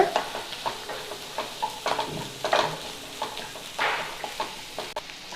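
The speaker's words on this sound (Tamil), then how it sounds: "இப்போது அதை லைட்டாக கலந்து விடுங்க." Soya chunks masala stirred in a pan, light scraping strokes repeating at an uneven pace over a soft frying sizzle, close by and without voices.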